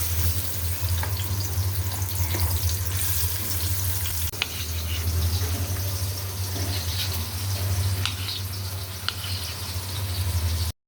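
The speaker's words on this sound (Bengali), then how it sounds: "একটু সাদা তেল, সয়াবিন তেলটা দিয়ে আমি রান্না করবো মাছ ভুনাটা পরিমাণ মতো। তো সাথে দিয়ে দিলাম পেঁয়াজ কুচি," Chopped onion frying in soybean oil, a loud, close, continuous sizzle with occasional stirring scrapes and a steady low hum underneath, no voices.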